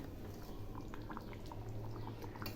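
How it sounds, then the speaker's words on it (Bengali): Jackfruit and prawn curry bubbling in a pan while being stirred, a steady soft simmering hiss with faint scraping ticks throughout, close and continuous with no talking. "আবারও একটু নেড়ে দিচ্ছি"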